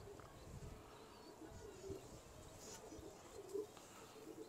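A prized high-class Jonsra pigeon coos softly a couple of times, faint and low against a steady background hiss.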